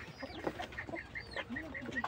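Chickens of a foreign breed raised on a poultry farm cluck in short repeated calls, fairly close and steady, with background farm noise.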